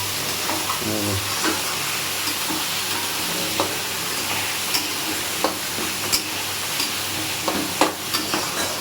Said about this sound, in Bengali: চিংড়ি মাছটা দিয়ে দেবো, দিয়ে এবার ভালো করে এই যে নাড়িয়ে নিলাম